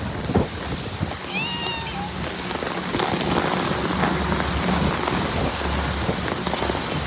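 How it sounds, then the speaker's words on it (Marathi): Heavy rain pours steadily and loudly on hard surfaces, with a brief high call cutting through early on. "माय गॉड, खूप पाऊस आहे."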